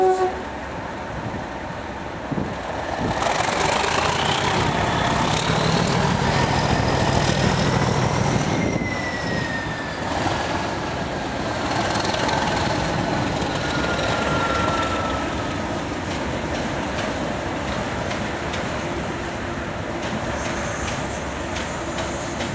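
Class 37 diesel locomotive 37215 leads 324 and 248 on a light engine move, giving a steady, heavy engine drone that swells and holds as it rolls along the rails, with no talk.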